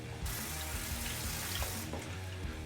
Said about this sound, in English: I've got some water blooming in that puck.